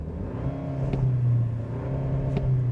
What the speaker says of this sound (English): it has the typical 4-cylinder sounds to it